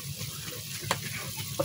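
Ground turmeric, chili and coriander powders frying in hot oil in a village kitchen for an egg and potato curry, giving a steady low sizzle with a couple of brief stirring clinks, close and fairly quiet.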